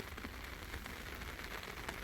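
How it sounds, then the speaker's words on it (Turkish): Heavy rain pours down at a lake during a carp fishing trip near Kızılcahamam, a dense, constant patter of drops hitting surfaces with no voices. "muazzam derecede bir yağmurla karşılaştık"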